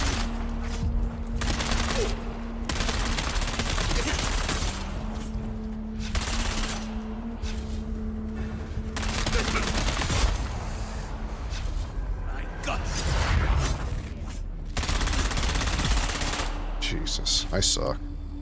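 Rapid bursts of video game gunfire fill the scene, loud and near, with machine-gun fusillades arriving in repeated volleys separated by short pauses, while a player's voice talks over parts of it.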